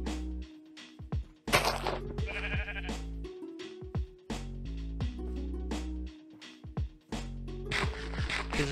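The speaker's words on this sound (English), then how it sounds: "we found our first specimen. This black sheep right here." A black sheep in Minecraft bleats in several separate short calls amid game sounds, close and clear, with no talking.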